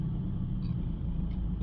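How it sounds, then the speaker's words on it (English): A Subaru Outback 2.0 boxer diesel engine idles slightly high with a blocked DPF, a low, steady hum close by, a constant rumble with no speech. "We could see there the car was just idling a bit high."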